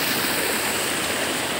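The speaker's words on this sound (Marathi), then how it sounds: "ये रही अपनी उल्हास नदी." The Ulhas river flows past near the MIDC Sarawli Kongaon area, a continuous close rushing of water, loud and even with no voices over it.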